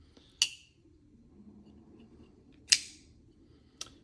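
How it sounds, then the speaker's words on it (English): A Nymble T folding knife's blade locks open with sharp, crisp snicks: three separate metallic clicks spaced a few seconds apart, close up over a quiet room hum. "It's got a really solid snicked sound when it locks up."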